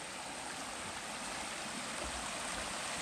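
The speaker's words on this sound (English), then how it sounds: "We got a little bridge, and then boom, waterfall." A waterfall and stream on the Pacific Crest Trail pour steadily beside a small bridge, a close, even rushing roar with no voices.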